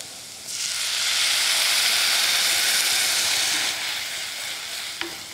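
Broth poured into a pan of sizzling curry base with curry powder and a little sugar, giving a loud, steady hiss and sizzle that swells at once, holds for a few seconds, then eases, with a faint click near the end.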